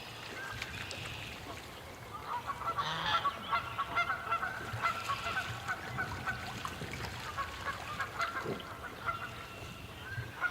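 Ducks on water call with a run of repeated honking quacks, fairly faint and somewhat distant, recurring through a low outdoor background.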